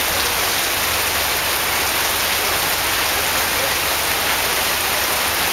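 Steady rain pours down on the training ship Danmark, a dense even hiss that fills the whole stretch without a break and sits close and fairly loud, with a thin constant high tone running underneath.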